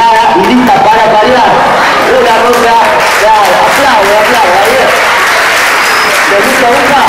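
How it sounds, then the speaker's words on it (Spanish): Audience applause at a TED-Ed Clubs student talk, steady clapping from a crowd with voices and cheers mixed through it for the whole stretch. "Una ronda. Aplausos, aplausos, aplausos."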